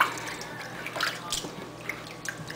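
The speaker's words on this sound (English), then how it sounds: "you just swish it around until the shampoo is all removed out of your unit" A hair unit swished through cool rinse water in a basin, soft drips and sloshing splashes in a few gentle bursts, close and quiet.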